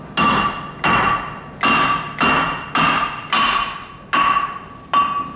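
Hammer blows knocking a stuck, rusted brake rotor loose, eight loud ringing metallic strikes in a steady rhythm about every two thirds of a second, each leaving a short metallic ring, close up with no talk.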